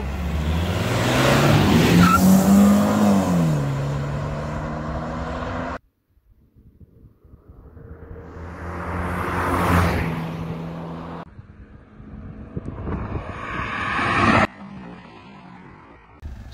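A BMW E90 2.0i and an Audi A4 B6 1.9 TDI drag racing, engines revving hard and accelerating through gear changes, passing loud and close, then fading and returning in separate bursts.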